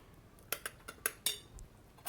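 A spoon stirs coriander and cumin powder into tomato rice in a cooking pot, producing a handful of sharp metallic clinks and scrapes spaced irregularly, close and fairly quiet with no talking.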